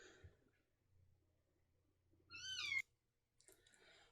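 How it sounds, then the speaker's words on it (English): A kitten gives one clear, high meow close by in a quiet room, with faint soft rustling and a brief shuffle before and after. "I'm actually going to pause this and see if I can't get the kitten to quiet down."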